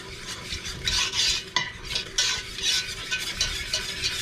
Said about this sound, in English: Now I'm just gonna whisk it.